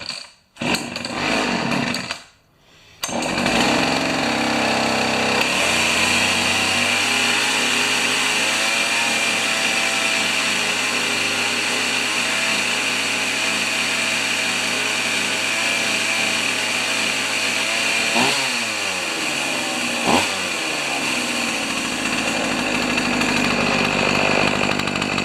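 A Pioneer Partner 500 chainsaw on full choke starts after a few sputters, then runs loud and steady at high revs for over twenty seconds, with brief dips and recoveries in engine pitch toward the end.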